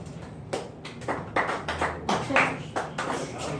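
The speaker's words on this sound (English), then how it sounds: "I want everybody to clap for both of these questions" A comedy club audience at The Happy Dog claps in scattered, uneven bursts, a few hands at first and then a fuller round that swells and dips, with no talking on top.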